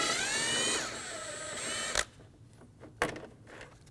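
Power tool with a 10mm socket removing air dam bolts on a Ram 2500, a close whirring run that rises and falls in pitch, then stops, followed by two sharp clicks.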